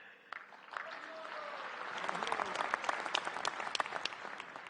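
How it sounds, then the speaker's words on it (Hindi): Applause breaks out in an audience during a speech at a commemorative address, building from scattered claps into steady, fairly distant clapping that lasts several seconds. "पीएम ताली नहीं बजा रहा था, प्रभु भक्त ताली बजा रहा था।"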